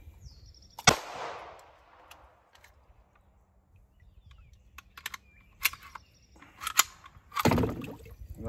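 Sharp close gunshots from a Hi-Point pistol fired during a dirt and mud test: one loud crack early, then scattered clicks and handling noise, and a second loud report near the end.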